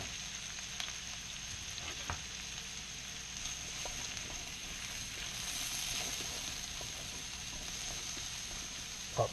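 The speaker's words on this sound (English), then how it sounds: "Pop those mushrooms right on that same hot pan." Mushrooms frying in a hot pan already used for beef stroganoff, giving a steady, even sizzle with a few faint clicks and scrapes. No talking.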